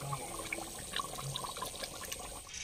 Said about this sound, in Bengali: মটন সিদ্ধ করা জলটি এর মধ্যে আমরা দিয়ে দেব।